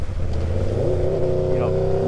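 An Aprilia RSV4 motorcycle engine revs loud and close, its tone rising steadily as the motor climbs in pitch and stays strong throughout.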